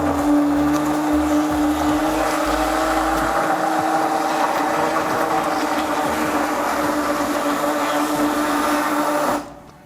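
A blender whirs steadily as it purées homemade hummus, a loud sustained motor drone with a grinding rattle early on, cutting off abruptly at the end.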